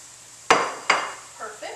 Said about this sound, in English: we're just going to add these right to our broth